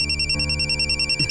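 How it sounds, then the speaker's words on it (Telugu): A telephone rings in a police office scene, a loud, close electronic trill pulsing rapidly and steadily through the whole short moment with no voices. "Sir phone."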